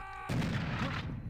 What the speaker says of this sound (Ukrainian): підірвався, розлетівся на шматки.